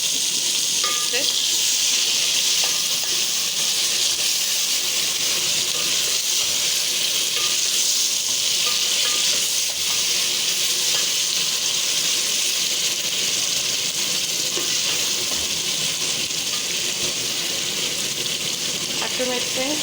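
Marinated beef sizzling loudly with browned onions in a pot, a dense, continuous hiss of frying that holds steady throughout, with occasional faint stirring sounds underneath.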